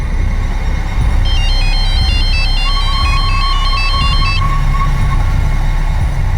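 A phone ringtone plays a repeating electronic melody over loud engine rumble, with a sustained tone joining midway.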